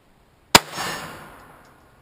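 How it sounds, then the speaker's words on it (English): A single CCI Velocitor .22 round fires from a Ruger 22/45 pistol: one sharp, loud crack followed by a short echoing tail that fades within about a second. "First shot of the Velocitor."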